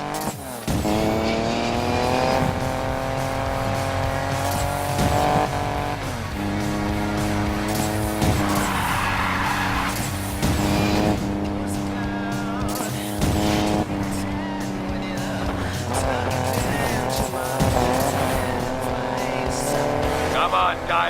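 Race cars roar loudly and continuously in the video game Need for Speed Payback, engine pitch rising and falling through gear shifts, with tire squeals and voices talking over the racing.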